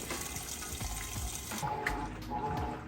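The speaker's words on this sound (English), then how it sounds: "It started filling up with water. See the water coming in nice and fast." Water rushes in fast as a Kenmore washing machine fills its tub, a steady close hiss and splash that keeps up without talking.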